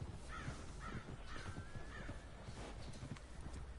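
Quiet clip-clop of horse hooves in the video game Red Dead Online, with a few bird-like calls over soft background noise.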